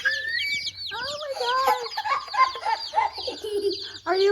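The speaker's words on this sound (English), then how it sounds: "Look at the chickens." Baby chicks fresh from a shipping box chirp in a dense, overlapping chorus of high, rapid peeps close to the microphone, with faint indoor background noise beneath.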